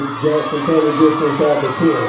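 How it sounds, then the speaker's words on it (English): Crowd at a Friday night high school football game, Johnson County Trojans vs. Treutlen Vikings, cheering and shouting in a loud, continuous wash beneath a voice speaking over it. "The crowd's all into it."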